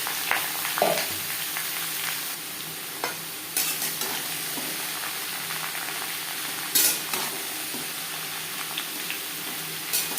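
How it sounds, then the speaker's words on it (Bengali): Ash gourd pieces stir-fry in oil tempered with black mustard seeds and a bay leaf, sizzling steadily with repeated spatula scrapes and clatters close by. "ফোড়নের সাথে চাল কুমড়ো বেশ ভালো করে মিক্স করে দেবো"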